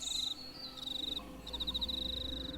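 Insects trill in rapid pulsing bursts at dusk, a high buzzing chorus of cicadas repeating in steady phrases over a low, quiet background.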